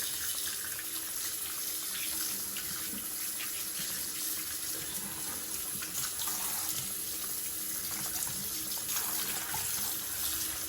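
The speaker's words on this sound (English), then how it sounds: "I'm gonna wash off this stuff off my fingers and wash that bowl out again" Running water from a tap splashes steadily into a sink while fingers and a bowl are rinsed, a continuous hiss of flow and splatter throughout with no speech.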